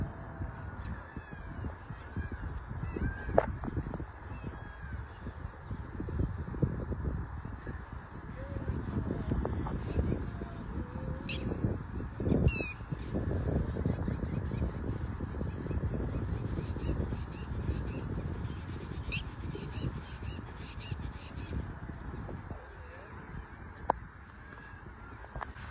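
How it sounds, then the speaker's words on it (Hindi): Birds call and honk like geese or other fowl across a quiet village green, steady outdoor ambience with scattered calls near and far, a voice speaking faintly now and then. "चिड़ियों की आवाज़ सुनिए।"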